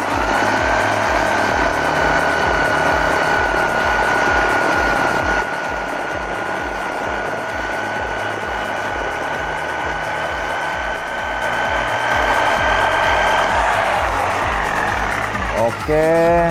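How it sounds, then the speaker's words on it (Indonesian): A Uchiha Laser jigsaw running at maximum speed setting 5 while making a 30-degree bevel cut, giving a loud, continuous buzzing whine with a steady high tone that drops slightly midway and winds down near the end. "power dari mesin jigsaw ini maksimal sekali ya untuk melakukan pemotongan kemiringan 30 derajat ya"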